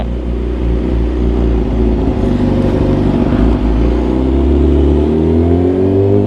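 A car engine revs loudly and close at a fuel station, a deep steady rumble that swells and climbs in pitch toward the end, with no other sound over it.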